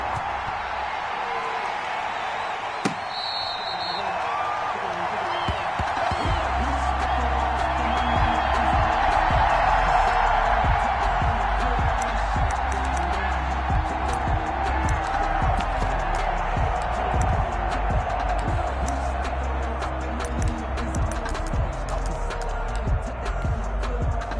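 A large stadium crowd at an Indianapolis Colts vs Seattle Seahawks football game keeps up a continuous, swelling roar of cheering, with a commentator talking over it.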